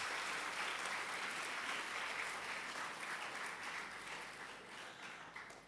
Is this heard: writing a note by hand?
no